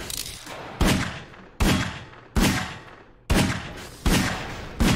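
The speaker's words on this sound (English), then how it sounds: "I'm not losing health shooting this" Six loud, close gunshots from a Garry's Mod video game boom out at an uneven pace, each with a sharp attack and a decaying tail, and no talking.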